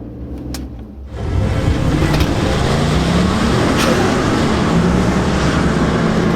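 A four-wheel drive car launches hard from staging on a prepared drag surface, engine noise jumping abruptly from a lower idle to a loud, sustained roar that rises steadily as it accelerates, with no talking.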